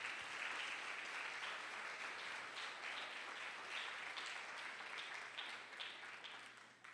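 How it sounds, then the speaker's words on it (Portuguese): A church congregation applauding during a communion service, a thick, continuous round of clapping that stays full and steady before easing slightly at the end. "Pode aplaudir o Senhor."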